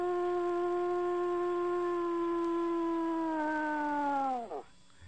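A person imitates a wolf howl, one long sustained rising-then-steady harmonic cry that bends sharply downward and breaks off near the end, loud and close during a radio interview.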